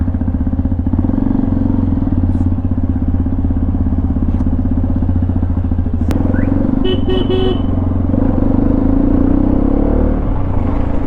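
A Hero Xpulse 210 motorcycle engine rumbles steadily up close as the bike rides along, with a few brief horn toots and clatter partway through.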